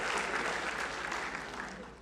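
Audience applause fills an IIT Patna lecture hall, a steady dense wash of clapping that holds for two seconds and slowly eases off toward the end.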